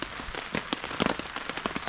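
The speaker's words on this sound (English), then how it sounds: "just listening to the rain" Rain pattering onto a tarp shelter at a solo camp in stormy weather, a steady close patter of drops with scattered louder taps, no voices.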